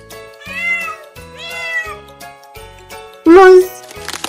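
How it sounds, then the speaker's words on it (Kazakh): A cat meows several times, close and clear, with a few short mews followed by a louder, longer cry and a faint jingle. "Мысық."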